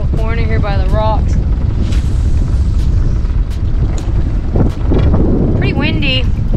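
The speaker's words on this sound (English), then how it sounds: "Pretty windy." Wind blowing at a remote lake during fishing, loud buffeting rumble across the microphone throughout, with people talking over it at the start and end.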